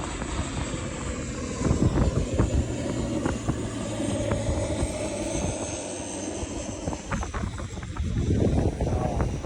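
Airliners take off near Phuket airport with a loud, continuous jet roar close by that swells and surges, and the engine rumble builds again toward the end.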